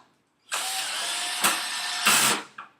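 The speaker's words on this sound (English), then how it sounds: "you want to make sure that you're using a low torque setting because you don't want to over tighten into the plastic" Power drill on a low torque setting driving a screw into plastic, a steady high whir for about two seconds with brief clutch-like surges near the end.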